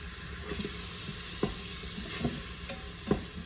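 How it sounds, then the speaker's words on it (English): Onions frying in a pot of bacon and beef grease for beef bourguignon, a steady soft sizzle close by with a few scraping stirs of a utensil against the pan. "I'm gonna get my onions nice and soft and translucent"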